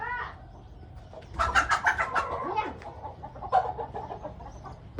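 Fighting cocks cluck and squawk nearby in short, choppy bursts, several birds calling over one another in an excited flurry.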